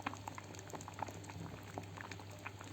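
Lentils simmering in a pot of water for Egyptian koshari, a soft, close bubbling with irregular small pops and gurgles, quiet and steady with no talk.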